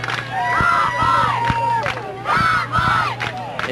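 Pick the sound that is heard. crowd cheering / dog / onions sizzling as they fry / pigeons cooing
crowd cheering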